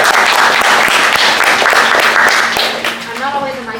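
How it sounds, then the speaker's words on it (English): Audience at a community craft market applauding a speaker's introduction, a loud, dense burst of clapping that tapers off toward the end, with voices talking underneath. "Round of applause."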